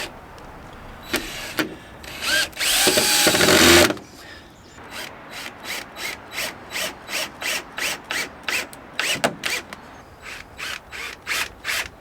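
A power drill drives thin screws into the wood of a cabin. Loud whirring bursts come first, then a steady run of short, rhythmic mechanical pulses, close and alone.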